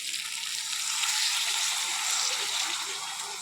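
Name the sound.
broth poured into pan of frying potol and potato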